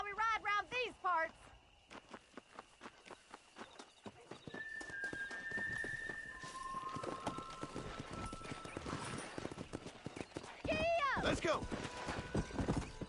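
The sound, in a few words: horse galloping in video game Red Dead Redemption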